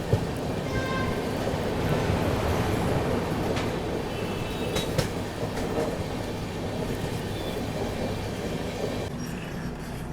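An AP Express train runs on the rails near Nagpur Junction, a continuous loud rolling rumble and clatter of wheels heard from inside or close by, with faint squeals and no clear talking.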